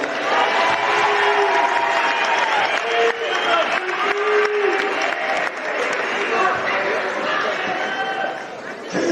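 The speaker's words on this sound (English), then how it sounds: "Please give him a round of applause." A basketball gym crowd applauds steadily and loudly throughout for an All-State high school player, with cheering and chatter mixed into the dense clapping.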